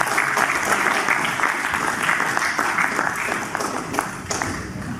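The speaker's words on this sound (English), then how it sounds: "can we give it a big round of applause" A conference audience at a Singapore blockchain event applauds with dense, sustained clapping that stays even and fairly loud from start to finish.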